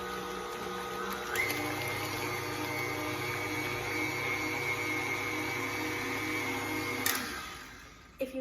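An electric hand mixer runs at medium speed beating eggs into chocolate chip cookie batter, a steady whirring motor drone holding for about six seconds before clicking off and winding down, with no talking.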